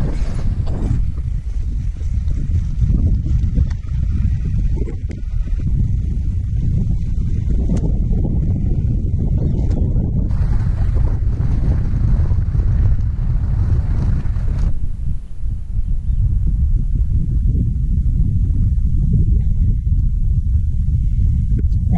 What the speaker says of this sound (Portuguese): Mas o vento também tá bom,